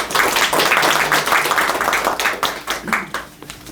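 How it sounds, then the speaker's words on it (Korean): Audience applause welcoming a speaker at a Buddhist discussion forum on youth gender conflict: steady, fairly loud clapping from a room of people that tapers slightly toward the end. "박수로 부탁드립니다"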